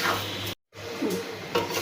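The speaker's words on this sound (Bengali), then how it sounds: "এখন মুগ ডালটা ভেজে নিচ্ছি। খুব কম আঁচে মুগ ডাল ভাজতে হবে।" Moong dal dry-roasting on very low heat for vegetable khichuri, a continuous close rasping rustle of a spoon turning the lentils in the pan, with a brief cut to silence partway through.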